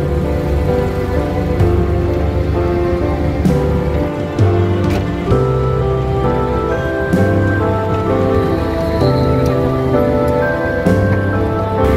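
Steady rain pattering on surfaces in a village, loud and continuous with scattered sharper drips and a low background rumble throughout.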